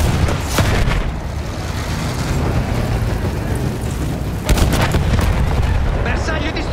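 Battlefield 1 battle with cannon fire and explosions, dense heavy booms and rumbling blasts packed together, loud and close, with a sharp burst of impacts midway and no clear talk.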